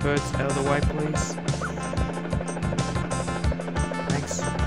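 Birds squawking in the platform video game Speedy Eggbert 2, with gobbling, fowl-like cries layered over looping game music and effects.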